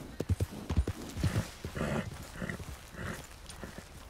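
Horse hooves clip-clop in uneven bursts in the Red Dead video game, close and fairly loud, with a brief whinny-like call amid the steps and no talking.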